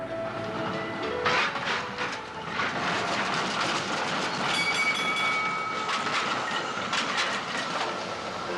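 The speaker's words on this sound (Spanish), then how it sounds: "Numerosas líneas de tranvías comunicaron la ciudad con la exposición." An early 1900s tram rolls along rails with a steady rumble and clatter, its wheels squealing faintly at moments, from a street line serving the 1905 Liège world exhibition, heard without talk.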